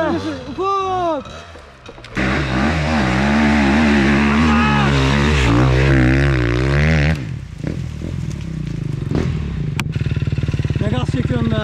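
An enduro motorcycle engine revs hard on a muddy hard-enduro trail at Gölcük, rising in sharp, loud bursts that climb and fall in pitch. Voices shout briefly at the start, then a rattly idle follows.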